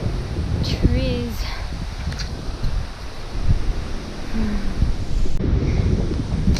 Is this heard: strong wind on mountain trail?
yes